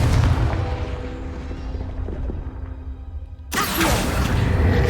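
Fiery Confringo spell blast in the game Hogwarts Legacy, a loud broadband burst hitting suddenly after a rumbling stretch and sustaining a crackling roar to the end.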